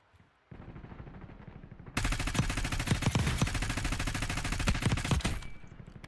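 Automatic fire from a submachine gun in Warzone: a short rattle starts, then after a brief pause a long, loud, continuous rapid burst of evenly spaced shots runs for several seconds before cutting off abruptly.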